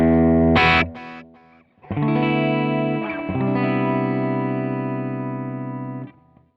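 Electric guitar with a basic delay effect: a sharp strum, a brief dip, then chords struck at about two and three seconds that sustain with repeating echoes before cutting off near the end, close and loud without voices.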